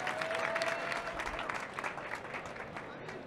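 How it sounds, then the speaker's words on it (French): Crowd at a Vivatech awards event clapping harder in a large hall, a dense sustained patter of many hands that swells at first then eases slightly, with a faint voice underneath. "Un peu plus fort les applaudissements."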